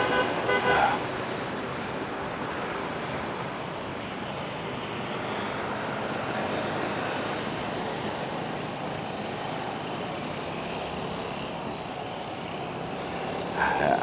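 Street traffic in Da Nang, Vietnam, with a steady wash of cars and motorbikes passing and short horn toots near the start and end.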